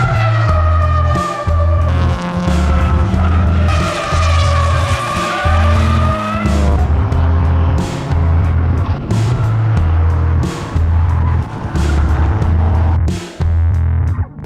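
A tuned 2001 Honda City VTEC driven hard on a race track, its engine loud and close as it revs rhythmically through gear changes, with tires squealing and skidding through the corners.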